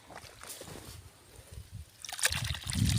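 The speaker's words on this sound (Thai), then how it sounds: "น้ำมาแล้วค่ะไหลพอแห้ง น้ำโซลาเซลล์มาแล้ว" Water from a solar-powered pump flows into a Thai sugarcane field being planted. A soft, steady trickle and slosh swells louder toward the end, close by, with light footsteps through wet ground and no talk over it.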